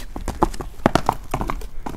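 A young horse, a colt, is walked on a show ground, its hooves clip-clopping in an irregular series of close, distinct strikes with no voices over them.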